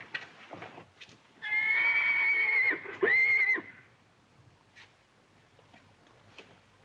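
A horse neighs loudly and close by, two whinnies in a row, with faint hoof clops and soft movement before and after.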